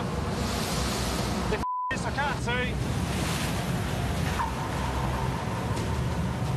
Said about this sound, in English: wind's blowing 45, 50 knots. Probably gusts of 55, 60. It's having a fair crack. Lifting waves a metre